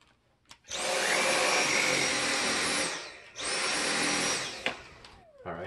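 Dyson V7 Motorhead cordless stick vacuum on max power, a loud high-pitched motor whine starting up, cutting out briefly and restarting, with a few clicks between runs and no speech.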